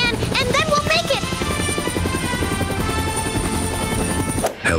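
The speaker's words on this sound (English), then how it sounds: "There it is, the helicopter." Animated game scene with a helicopter arriving, its buzzing rotor whine and harmonic drone running beneath cartoonish voices and shifting effects, then cutting off abruptly near the end.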